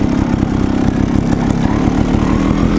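A Gas Gas TXT trials motorcycle engine runs steadily while riding over rough terrain, a loud, continuous low buzzing drone with slight rhythmic pulsing and no talk over it.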